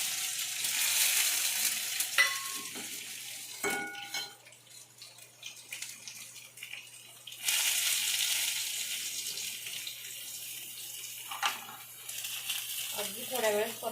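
Eggs frying in a little oil with red chili powder and turmeric in a home kitchen for egg dum biryani, a loud hissing sizzle that flares in bursts, broken by clinks, stirring and quieter gaps.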